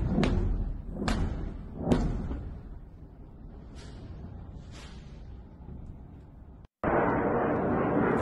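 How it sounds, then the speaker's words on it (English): Missile strikes hitting an airbase, heard from a distance as three sharp thuds in quick succession followed by fainter booms and rumbling, then a sudden burst of wind-like noise. "hear all the successful impacts finally reaching the cameraman"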